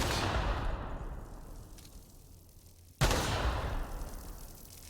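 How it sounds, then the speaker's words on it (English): Two gunshots in The Outer Worlds video game: a heavy blast opens the clip, then after a fading rumble a second sharp shot cracks, both loud amid constant background noise. "Those are the first 2 gunshots I've fired in the entire game so far."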